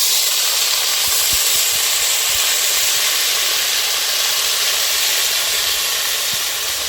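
Loud, steady hiss of steam rising as a little water hits a hot pan of cooked greens and fish, a continuous broadband sizzle that fills the whole stretch without pause.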